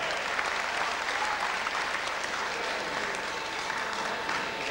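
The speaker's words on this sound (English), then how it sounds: "isn't there a round of applause and commiserations to Delainey Park" A crowd applauds steadily at a boxing promotion event for the winner and runner-up, a continuous dense clapping that holds its level for several seconds.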